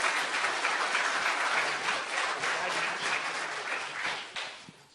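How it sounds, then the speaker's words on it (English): Sustained audience applause for a law school panel, a dense wash of many hands clapping steadily for several seconds before gradually tapering off at the end. "Let's give this panel a round of applause."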